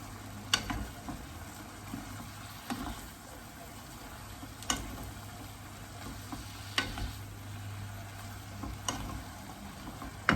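Pork and broccoli stir-fried in a wok over high heat with soy sauce, a steady sizzle broken by sharp scraping strokes of the spatula about every two seconds, close and clear.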